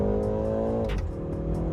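A 2020 BMW 330i heard from inside the cabin with the windows closed: a steady, humming engine drone holds, then drops in pitch as the revs ease off, loud and close.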